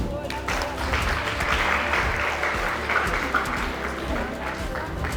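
Audience applause at a Christmas event with orphans in Kinshasa held by the NGO La Voix du Secours, steady close clapping mixed with crowd murmur and movement.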